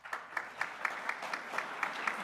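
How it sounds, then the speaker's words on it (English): Employees marking 25 years of service get applause from a university recognition ceremony audience, a faint, thin patter of scattered claps with distinct individual hand strikes spaced irregularly, heard from a distance. "please stand as you are able and accept our applause for your dedication to Washburn"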